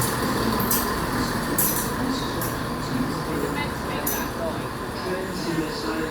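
A train at Newport station in South Wales makes a steady rumbling, rolling noise with faint brake hiss, close and continuous, while people talk over it.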